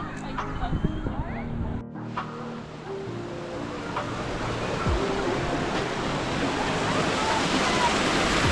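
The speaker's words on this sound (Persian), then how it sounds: "یکی از سرچشمه های چشم دیمه است، داره از زیر این سنگ‌ها و کوه میاد بیرون." Spring water gushes out from under rocks and a mountainside at a source in Kuhrang, a constant rushing wash that builds slightly louder, with voices briefly audible early on.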